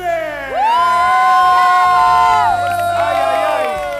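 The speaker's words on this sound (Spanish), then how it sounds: "El aplauso para recibir a Lourdes." Studio audience at a televised dance show cheering loudly, with high whoops and shouts rising over a continuous crowd roar for several seconds.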